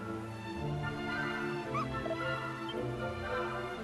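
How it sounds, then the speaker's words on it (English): A happy dog in the Dragon Quest VII Reimagined video game lets out a few short yips and whimpers over a steady bed of game background music. "At least the dog's happy."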